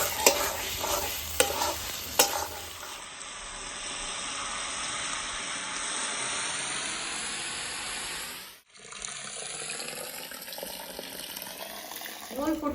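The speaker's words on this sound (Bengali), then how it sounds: "এই মশলাটা বেগুনের সাথে ভালো করে মিশিয়ে দেব।" Spice paste is stirred together with fried eggplant in a pan for a fish curry, giving a steady close sizzle with a few sharp scrapes early on and a brief drop to quiet partway through.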